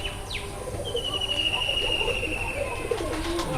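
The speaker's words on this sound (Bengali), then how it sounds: "মাশাআল্লাহ, অনেক সুন্দর কবুতর" Indian pigeons coo softly nearby, a low murmuring call against steady background noise, with a faint higher whistle-like tone drifting through and a brief flutter.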